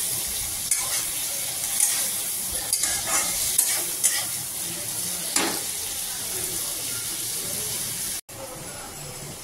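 Chopped onion and green chili sizzle in hot oil in a pan, a steady bright hiss with scraping stir strokes scattered throughout, close and fairly loud.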